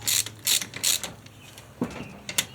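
A hand ratchet torques head bolts on a 421 Super Cub engine being built for a Banshee, giving three quick loud clicking bursts, then a pause and a couple more ratchet clicks close by.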